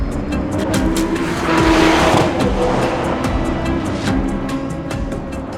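A Czinger hypercar laps a race track, its engine droning loud and close with shifting pitch as it accelerates and brakes, tires squealing through corners, with no talk over it.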